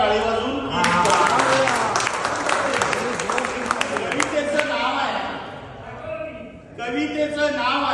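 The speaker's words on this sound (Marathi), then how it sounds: "उद्या सर्वांनी मला परवानगी द्या टाळी वाजून" A crowd claps together at an event, a dense burst of applause that rises after a short opening, holds for several seconds, then thins briefly before returning, with a voice speaking over it.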